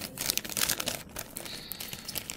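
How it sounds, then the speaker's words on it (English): A bag of swapped nail polish items crinkles and rustles as it is handled, close and fairly loud in a short, uneven burst of crumpling with no talk. "I'm gonna put this back in the bag."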